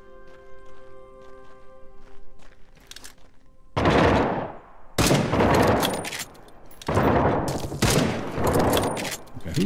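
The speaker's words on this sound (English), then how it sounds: "Okay, who the heck is shooting?" Several bursts of rapid gunfire sound in the survival game The Front, each volley loud and dense, separated by short quieter gaps with faint rustle and footsteps.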